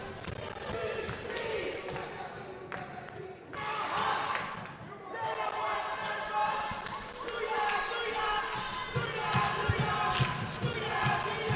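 Crowd noise fills the gym at a high school boys' basketball city playoff game, a steady roar of cheering with swelling peaks and basketball bounces and sneaker squeaks mixed in.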